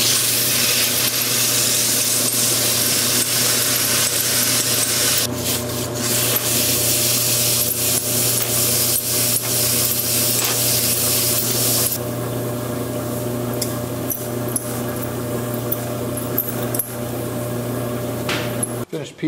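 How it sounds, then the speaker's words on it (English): A bamboo fly rod reel seat is sanded with 80 grit, producing continuous close abrasive rubbing over a steady low hum. The scratchy texture thins partway through. "So now we can sand this. We'll start with 80 grit."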